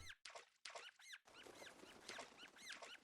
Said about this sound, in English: That thing squeak? What is that? Is that a squirrel?